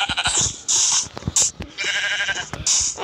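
A goat bleats repeatedly in a survival-style video game, several loud, nasal bleats in quick succession with short pauses between them, alone without talk.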